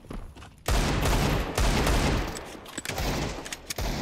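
Dense video game gunfire bursts in after a short quiet moment, a loud rapid fusillade of shots with brief gaps near the end, no voices over it.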